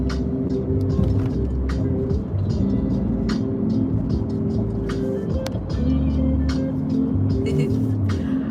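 Car driving on I-20 West highway, a steady engine and road rumble running throughout with no breaks, joined by talk and navigation prompts.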